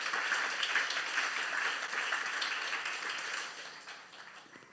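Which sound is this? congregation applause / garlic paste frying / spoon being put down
congregation applause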